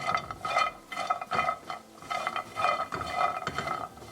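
Cashews being stirred as they roast in a pan over medium-low gas, a soft rhythmic scraping and rattling of nuts against the metal, repeated steadily and close with no talk.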